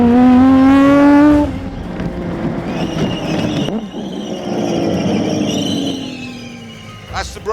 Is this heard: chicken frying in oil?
no